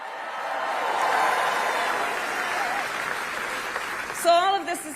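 A crowd claps steadily in a broad, noisy wash that swells and then settles, with a voice rising over it near the end.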